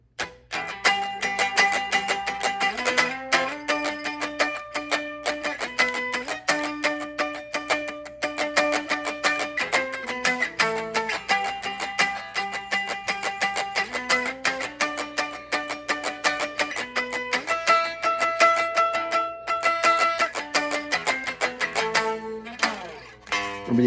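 Electric guitar plays a riff from the worship song "We Praise You" in G at full tempo, a continuous run of clean, sustained picked notes and shifting chord tones for about twenty-four seconds, close and solo without talking.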